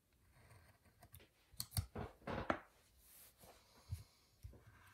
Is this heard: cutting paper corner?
yes